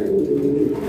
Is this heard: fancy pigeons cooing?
yes